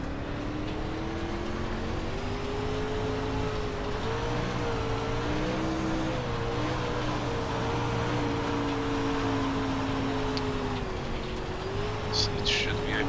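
Engine of a dirt race car in the iRacing sim game, a steady droning whine that swells and dips in pitch with the revs, running without a break under faint background noise.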